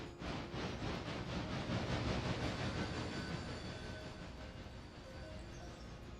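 Steam train running in the railroad game Railroader, a P-48 Pacific locomotive hauling cars, a steady rumbling roll with faint rhythmic chuffing and clatter, fairly quiet and fading slightly, no voices.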